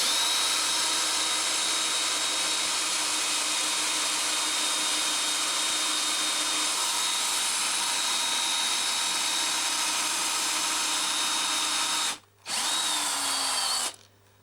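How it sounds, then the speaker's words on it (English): A battery-operated cordless drill whines continuously at high speed for over twelve seconds, loud and close, with a brief stop near the end before spinning up again; no talk. "One drawback to using these battery operated drills is that they don't have the welly of a normal corded drill"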